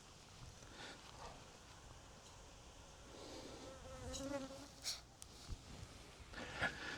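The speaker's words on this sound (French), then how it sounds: "Les mouches qui s'invitent, c'est pas le top." Flies buzz around on a golf course next to a field of cows and goats, a faint, steady insect drone with a few louder passes close by, set against quiet outdoor background.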